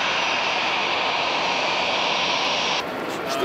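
A Tu-214 long-haul airliner at an airfield gives off a steady, loud jet-engine roar with a broad hiss. Near the end the roar drops slightly in level.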